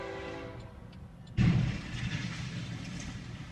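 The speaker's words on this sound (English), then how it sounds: "But as you're about to see, that train kept on coming." A freight train bears down on a rail crossing on Highway 99 where a semi-truck sits stalled on the tracks. A sustained horn blast gives way to a sudden loud, close rumble that keeps roaring on.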